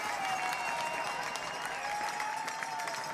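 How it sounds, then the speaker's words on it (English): Fans at a Corvallis Knights baseball game cheer and clap after a strikeout, a sustained crowd roar with scattered applause and whistles that holds steady across the moment. "Big cheer from the Knights fans"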